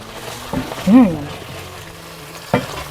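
Sauce simmers in a pot while being stirred, giving a close, soft bubbling and sizzle with a couple of sharp utensil knocks against the pot.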